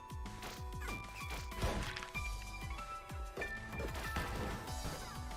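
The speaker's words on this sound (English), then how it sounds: "Smash you through the jars." Jars smash repeatedly in the action game Anuchard, a string of sharp crashes and thwacks landing in quick succession over a busy, loud game soundtrack.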